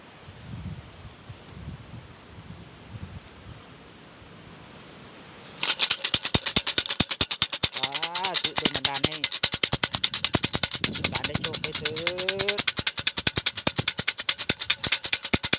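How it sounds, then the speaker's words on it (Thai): Thai siam si fortune sticks rattled in a cylinder at an outdoor shrine near a forest, a rapid dense clatter of bamboo sticks that starts abruptly and continues steadily, close and loud over wind noise, with brief voices in the background. "มีเซียมซี เดี๋ยวลองเสียงเซียมซีดูนะครับ ว่าจะได้ตัวไหน"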